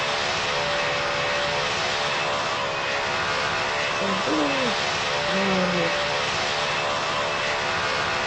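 An airplane engine drones steadily in flight, a constant broadband roar that fills the clip from start to finish, with a few faint whistling tones rising over it midway.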